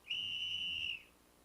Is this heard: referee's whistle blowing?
yes